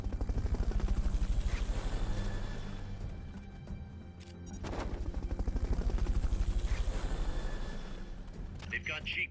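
Helicopter in the Metal Gear Solid: Peace Walker video game, a steady loud rotor thrum with rhythmic beating that swells and dips, heard under game voice dialogue throughout.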